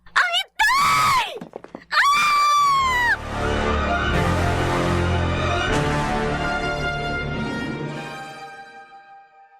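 A person screams in the night, several piercing wavering shrieks followed by a long, loud anguished wail that slowly fades away.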